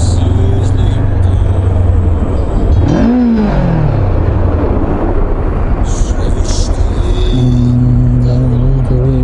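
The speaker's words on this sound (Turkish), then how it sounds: "Oha bu ne trafik lan?" Busy road traffic with cars driving past fills the clip, loud and continuous, with engine hum and a revving car passing close around the middle, while a voice talks over it.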